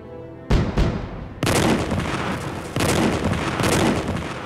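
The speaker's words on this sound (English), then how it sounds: "After a terrific barrage," A wartime artillery barrage thunders in a documentary: two sharp blasts open it, then heavy sustained rumbling roars in overlapping waves, loud and dense, with no voices over it.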